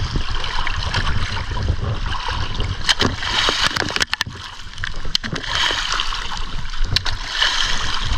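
Waves slosh and splash steadily against a small fishing boat out on the water, a dense, continuous wash with a few sharper slaps rising out of it, close and fairly loud throughout.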